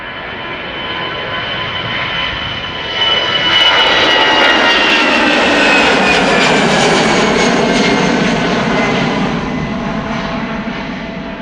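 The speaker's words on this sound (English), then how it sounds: "Always like the sound of those A319s and A320s, those old school engines, when they pass by from this point of view." An EasyJet Airbus A319 bound for Edinburgh passes at Schiphol, its jet engines building from a distant whine to a loud, close roar before easing away, with no voices over it.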